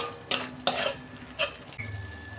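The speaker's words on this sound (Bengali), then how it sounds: "দু মিনিট আমি ভালো করে কষাবো মশলাটা।" Masala frying in a pan for a fish curry and stirred with a spoon, producing several short scraping strokes and a few clinks over a soft sizzle, with no talking.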